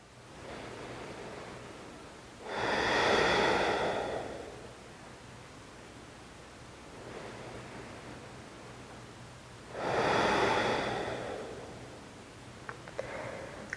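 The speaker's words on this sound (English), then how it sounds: "Breathe deeply into the belly, fill it up with air on your inhale, and then exhale it all out." Slow, deep breaths during a calm bedtime yoga session, two long airy inhales or exhales swelling several seconds apart, with softer breathing between them against a quiet room.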